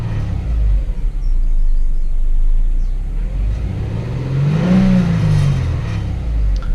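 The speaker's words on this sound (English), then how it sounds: "If you throttle it, oh, it's better than earlier. There's a lag and then it goes." Subaru SG9 Forester engine idling with a low rumble, then revving after a slight hesitation, the pitch rising and falling back in one smooth swell, close and loud.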